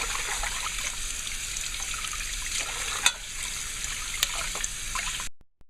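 Water steadily trickles and runs from a tap while fish is rinsed and left to drain in a kitchen sink, a continuous close wash of flowing water with a couple of brief clunks before it stops abruptly.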